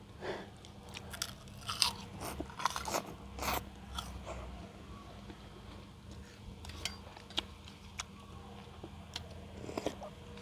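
Someone eats pounded spaghetti with shrimp and choy sum, with soft crunching bites and chewing clicks scattered irregularly, close and fairly quiet.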